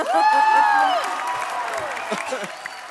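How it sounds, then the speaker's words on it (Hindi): Loud audience applause and cheering that fades out, with some crowd noise and voices beneath, in a TV comedy talk show studio. "जोरदार तालियां"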